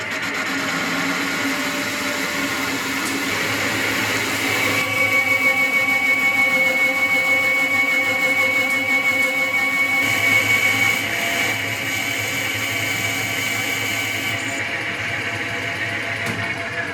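A Victor lathe parts off a thick change-gear blank with a steady, whining, grinding cut that keeps going for the whole stretch, growing a little harsher midway and holding close and constant.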